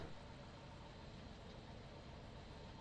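Engine of an old Ford tractor in Farming Simulator 15, fitted with a new carburetor, running smoothly in a steady low, even idle-like drone, faint and continuous.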